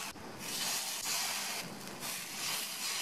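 Masala-coated brinjal pieces dropped one by one into hot oil, giving a steady, close hissing sizzle that holds for the whole stretch with small swells as more pieces go in.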